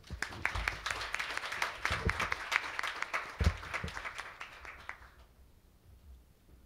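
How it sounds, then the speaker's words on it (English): An audience at a forum discussion session claps in dense, sustained applause for about five seconds before it fades out quickly into quiet. "Please welcome her with a warm round of applause."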